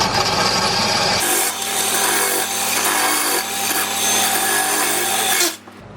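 A drill grinds steadily against glass for several seconds, a harsh rasping whine as the bit catches on the glass, stopping abruptly near the end.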